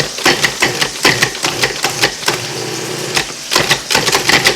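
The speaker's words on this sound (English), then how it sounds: "And now we'll pulse to combine." A food processor pulses biscuit dough ingredients, including salt, in a run of loud, short, rapid bursts, with a steadier whirring stretch in the middle before the choppy pulses resume, close up.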